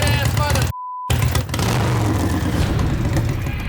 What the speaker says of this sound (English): The 120 cubic inch motor fires up on the first try.